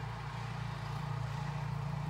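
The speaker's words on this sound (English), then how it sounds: "Someone's got their snowblower out." A snowblower runs outside on a snowy day in Canada, a steady low engine drone with no pauses, heard faintly from a distance.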